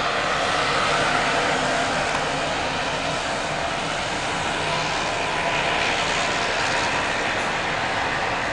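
Steady, broad jet roar of an airliner taking off from a runway near a cruise port, a continuous loud rumble sustained throughout with no voices.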